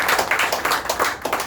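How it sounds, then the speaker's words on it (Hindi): A live training-session audience in India claps for senior workers with over 20 years in the tech industry. The clapping is dense and fairly close, with quick uneven bursts of hand claps and no voices. "इनके लिए जोरदार ताली"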